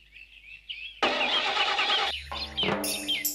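A car engine tries to start: birdsong at first, then a sudden burst of cranking and sputtering that cuts out and churns again in rough, uneven pulses, close by.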